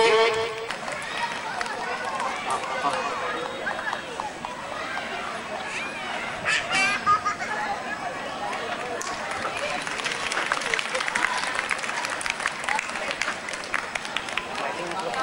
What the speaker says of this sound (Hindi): ताली बजते रहनी चाहिए दोस्तों।